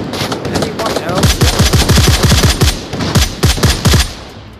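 Machine gun fire in the VR shooter Onward, with rapid sustained bursts of close, loud automatic shots in a fast rhythm and a few brief breaks between volleys.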